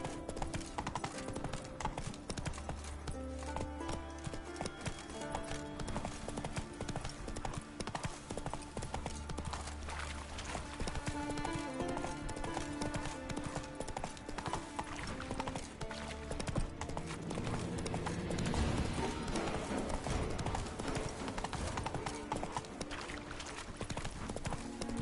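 In The Witcher 3 the horse Roach gallops with fast, even clip-clop hoofbeats that run for the whole stretch, over game music and ambience, with a brief whinny.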